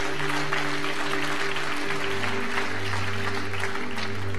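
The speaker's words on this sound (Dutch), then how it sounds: "Geef ze een goed applaus." Sustained crowd applause at an evening gathering, a thick, even roar of clapping that holds steady for over four seconds beneath a faint low hum.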